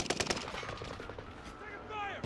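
Rapid gunfire bursts from the video game Warzone crackle loudly at the start, then fade into game sounds with a brief voice.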